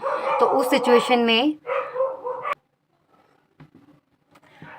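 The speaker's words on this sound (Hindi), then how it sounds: "डॉग बार्किंग की वॉइस आ रही थी ना आपको" Dogs barking outside: a run of loud, close barks and yips at the start, with someone talking over them and then continuing alone while the barking fades out.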